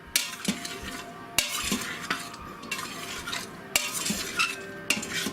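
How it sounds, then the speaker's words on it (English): Onion and bacon stirred into Instant Pot potato salad with a utensil, a few sharp clinks against the pot rim among soft scraping and rustling, close and alone. "We need to add our onion and also add the bacon. Give that all a good stir."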